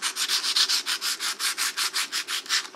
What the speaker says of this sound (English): I'm going to sand this now and show.